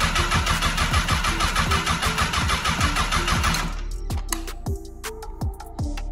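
A 2019 Honda CBR1000RR motorcycle engine cranks in a loud, rapid rhythmic churn for several seconds, then stops, leaving scattered clicks and knocks.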